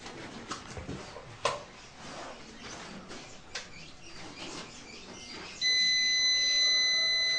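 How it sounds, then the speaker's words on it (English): In a home with a solar-panel power system, an electronic alarm kicks in after a few seconds of quiet background noise and holds a steady, piercing multi-tone beep until the end as the lights and refrigerator run together. "It sounds an alarm."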